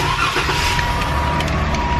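A new car's engine runs with a steady, low rumbling hum and broadband road-like noise that hold evenly for the whole stretch, close and fairly loud, with no voices.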